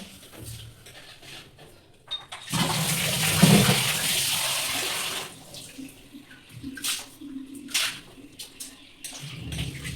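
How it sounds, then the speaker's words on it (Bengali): Water splashes and runs while items are rinsed clean with plain water, a loud sustained gush in the middle giving way to intermittent softer splashing and trickles. "আমি এখন দেখো এগুলো সার জল দিয়ে ধুয়ে নিচ্ছি।"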